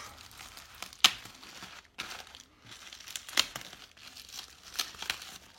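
Hands unwrap a parcel packed in bubble wrap: crisp crinkling and tearing in irregular bursts with short pauses between them, close to the microphone and without talk.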